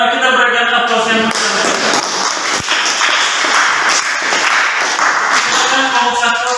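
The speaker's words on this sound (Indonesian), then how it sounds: "sekali lagi kita berikan aplaus yang meriah" A classroom audience gives a sustained round of dense clapping for a discussion group, loud and close, with voices mixed in at the start and end.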